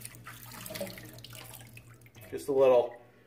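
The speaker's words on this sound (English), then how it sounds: "I'm gonna throw a little water on my head." Water scooped by hand and splashed onto a head before a Williams mug soap shave; a short wet splash near the end, preceded by quiet sink water and someone talking.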